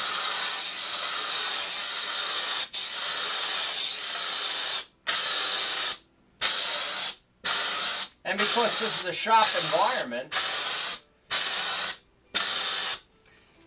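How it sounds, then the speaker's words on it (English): A steam cleaner hisses as it sprays steam onto hard-to-clean indoor-outdoor rugs in a shop, with a long steady blast followed by a series of short bursts separated by brief silences, and someone speaking briefly over it. "I'm just playing here, using up the steam that I already made."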